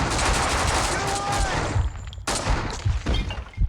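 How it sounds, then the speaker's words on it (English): MP5 submachine gun fire in the video game Max Payne 2, dense rapid bursts that crackle loudly and close, breaking off briefly before further shots. "the MP5 is like kind of like overpowered. Super accurate. The rate of fire is awesome."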